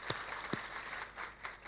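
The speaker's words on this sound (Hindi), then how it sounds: "तो एक अब तालियां होनी चाहिए इस बड़े काम का" A school audience claps faintly at the launch of the Ayushman Bharat School Health Mission: a few scattered, distinct claps rather than a full ovation.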